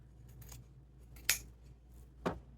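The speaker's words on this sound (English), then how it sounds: "Now I can cut off that bulk right there." Scissors snip off excess bulk material in a quiet craft setting, with two sharp, close cuts about a second apart over faint background hum.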